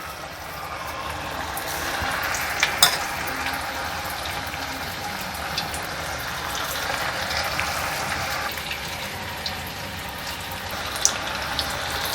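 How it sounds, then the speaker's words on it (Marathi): Corn fritters fry in hot oil, with a steady bubbling sizzle and a few sharp pops and crackles scattered over the frying. "मक्याची भजी आता आपण तळून घेऊया भजी तेल तापलं आहे आपलं"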